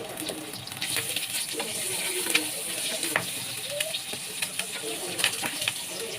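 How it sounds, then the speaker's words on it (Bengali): Eggs coated with salt, turmeric and chili fry in oil in a wok, giving a steady close sizzle with scattered small pops and crackles throughout. "তেল দিয়ে আগে থেকে লবণ, হলুদ, মরিচ মাখানো ডিমগুলো ভেজে নিচ্ছি।"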